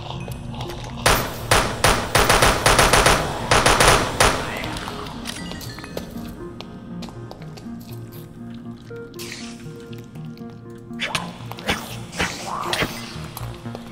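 Rapid bursts of gunfire ring out in a modded Minecraft survival game against parasitic fungus creatures, as dense repeated cracks at first that thin into scattered shots, with a player talking over them.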